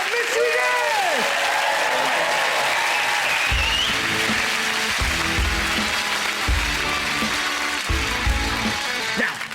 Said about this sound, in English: a massive round of applause for probably my favourite, Missy Guest!